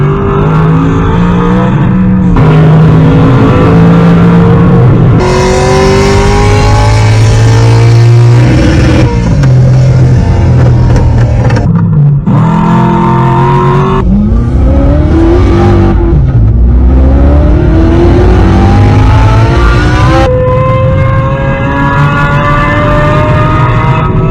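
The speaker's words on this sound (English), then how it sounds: "lets you play high power engine sounds out of your speakers in real time" Simulated high-power engine sounds play through a car's speakers from a Pocketboost device, a loud, continuous run of rising revs and gear-change drops like a racing car accelerating, with no talking over it.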